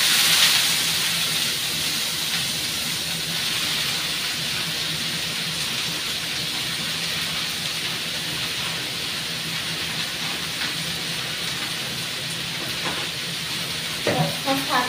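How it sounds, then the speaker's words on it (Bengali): Leafy greens tossed into a pan of garlic fried until red, giving a loud steady hissing sizzle throughout, with a few utensil knocks near the end. "এবার আমি শাকটা দিয়ে দেবো।"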